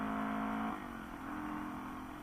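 A 1996 Suzuki DR650 motorcycle engine held at full throttle gives a steady, loud, close drone with a slight dip and pitch change partway through, heard alone.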